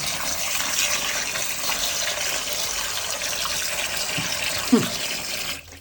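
Water splashing and running as drumsticks (moringa pods) are rinsed in it, a steady wash of liquid noise with a sharper slosh near the end.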